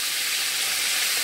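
Food browning in oil in a frying pan gives a dense, steady sizzling hiss, close and unbroken throughout.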